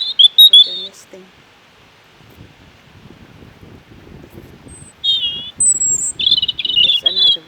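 Small birds chirp in short bright bursts around a purpose-built nesting box, loud and close at the start and again toward the end, with a quiet rustling stretch between.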